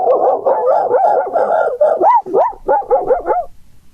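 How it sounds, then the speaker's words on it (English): Sound effect of wild dogs barking, a loud close run of yapping, whining barks in a rapid uneven string. "Sounds like a pit of Lhasa Apsos, Tim."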